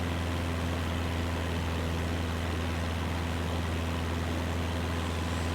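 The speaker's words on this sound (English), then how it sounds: "to decrease the engine power." Aircraft engine droning steadily at reduced power in Microsoft Flight Simulator 2020, a low, even hum with a constant tone, loud and unbroken throughout with no talking.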